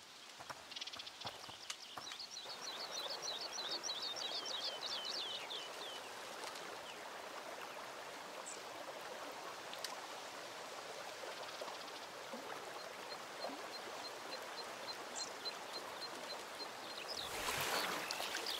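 Water flows faintly and steadily in A Plague Tale: Requiem, a soft trickling ambience with occasional light chirps and clicks over it.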